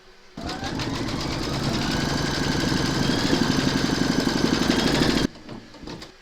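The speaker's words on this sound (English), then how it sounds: "Pop your hoop into your machine and stitch round number 6, and that's going to secure it in place." An embroidery machine stitches fabric held in a hoop, its rapid even needle chatter and motor hum running loud and close for about five seconds before stopping abruptly, followed by a few faint clicks.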